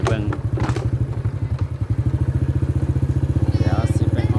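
A motorbike rides along the lanes of a rural village, its engine chugging steadily and loudly up close throughout, with a voice briefly audible at the start.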